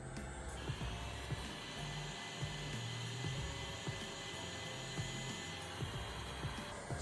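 Heat gun on its low fan setting at 600 degrees, blowing a steady whooshing airflow across a faded Jeep Wrangler fender flare, continuous and even throughout.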